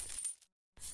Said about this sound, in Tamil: காசு விழுற சத்தம் கேக்குது